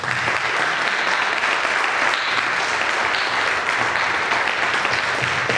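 A crowd at a company's first anniversary celebration applauds loudly and continuously, a thick unbroken roar of clapping filling the whole stretch.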